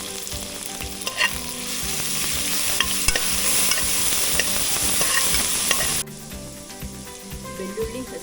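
Dry chilli, garlic, ginger and green chilli frying in hot oil for a one-pot khichdi, a loud, steady sizzle with scraping stirs that drops to a quieter crackle partway through; no talking.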